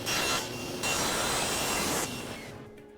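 A table saw rips through a board while cutting crown molding, a loud, steady whine that dips midway, then swells again before the cut ends and the blade sound fades out.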